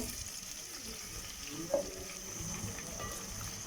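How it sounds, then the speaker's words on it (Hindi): Onions frying toward golden in a pan for achari chicken, a steady, soft sizzling hiss that runs evenly throughout, close and fairly quiet, with one faint small clink near the middle and no talk. "प्याज को हम गोल्डन फ्राई होने तक फ्राई करेंगे।"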